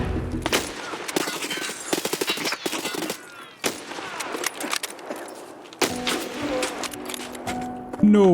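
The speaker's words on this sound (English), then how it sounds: "He survived a headshot from a sniper rifle, point blank range." Sniper rifle fire and gunfight in Escape from Tarkov, with loud sharp bursts and impacts packed close together, mixed with talking and busy game noise throughout.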